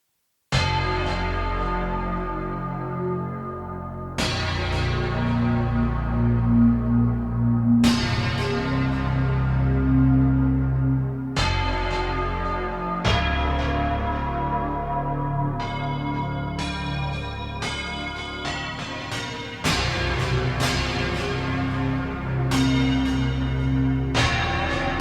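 A bell-like patch on a Waldorf Quantum synthesizer rings out as a series of struck notes and chords, each one sustaining and slowly decaying, loud and clear with no talking.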